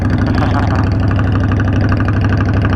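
A Tao Gemini's engine runs steadily in second gear while driving, a loud, close, continuous throbbing drone that stays even throughout.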